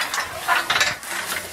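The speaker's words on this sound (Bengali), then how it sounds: "এটা খড় কাটা মেশিন, ও এখন কাটবে।" A straw cutting machine, a chaff cutter, chops straw with a rough mechanical ratcheting and clattering, in uneven bursts that stay fairly close and steady.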